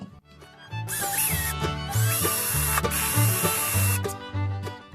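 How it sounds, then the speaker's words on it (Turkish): An electric drill whirs up close in repeated bursts, its motor pitch rising and falling as it bores a hole into a wooden chair leg. "Şimdi buraya bir delik açacağız."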